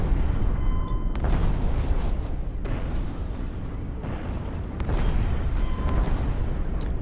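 Weapons fire and explosions from a space battle in the game Infinity Battlescape: dense, continuous booms and bursts rolling together at steady loudness, with sharper blasts cutting in every second or two.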